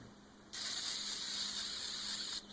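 WD-40 is sprayed onto a foam air filter from a Troy-Bilt Pony lawn tractor: one steady, close hissing burst lasting about two seconds, starting and stopping abruptly, with no talking.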